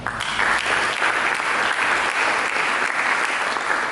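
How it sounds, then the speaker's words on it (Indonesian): A church congregation claps during a sermon, a dense, steady round of applause at fairly strong level that holds evenly for several seconds without speech. "Berikan tepuk tangan"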